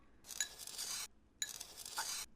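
A fork stirring and mashing macaroni and cheese with jalapeno in a bowl, two short bursts of bright scraping and clinking against the dish, close and fairly quiet.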